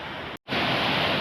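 A waterfall's steady broadband rush of falling water, loud and continuous after rain, broken by one brief dropout of silence before the roar resumes.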